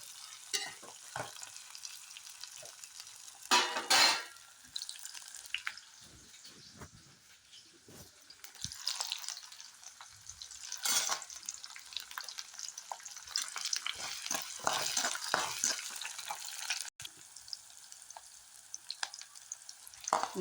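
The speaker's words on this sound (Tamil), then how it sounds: "இந்த கருணக்கிழங்கை வந்து பொரிச்சு எடுத்துக்க போகிறேன்." Elephant foot yam pieces deep-fry in oil with a continuous soft sizzle, broken by bursts of louder crackling and bubbling as the pieces are stirred, fairly faint and close, with no talk.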